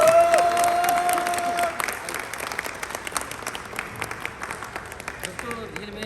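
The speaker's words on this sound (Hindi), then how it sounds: "जोरदार तालियां।" A crowd claps and cheers loudly in a burst of applause that gradually thins out, with voices and a brief tonal sound mixed in.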